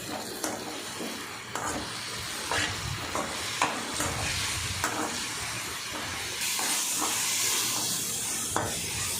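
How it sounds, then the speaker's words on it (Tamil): Vallarai (Centella) leaves sauté in hot oil for chutney, making a steady, hissing sizzle broken by repeated scraping and tapping strokes of a spatula against the pan, close and continuous, with no talking. "இதை நல்லா அந்த எண்ணெயிலே வதக்கி நல்லா சுருண்டு வர அளவுக்கு நல்லா வதக்கி எடுத்துக்கலாம்."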